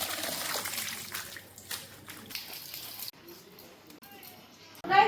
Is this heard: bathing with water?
yes